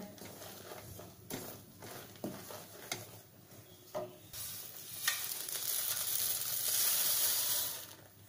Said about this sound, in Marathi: मुरमुरे घातले की पटापट ढवळायचं आहे आपल्याला